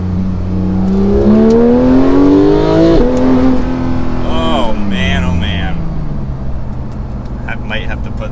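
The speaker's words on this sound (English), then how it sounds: "we have one more acceleration and then we'll head on back." A 991.2-generation Porsche 911 GT3 accelerating hard on a test drive, its engine note climbing in pitch, dropping with a gear change and climbing again, loud and close from inside the cabin throughout.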